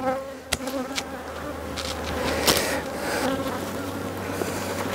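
A honeybee swarm hums at a hive during a spring colony split, giving a continuous dense buzz close to the microphone with a few sharp knocks and taps mixed in and no talk.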